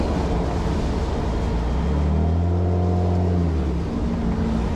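Engine of a Tuksedo Studio 300 SL Gullwing replica car while driving, a loud, steady low drone with a rising tonal hum in the middle, heard from inside the car with no talk.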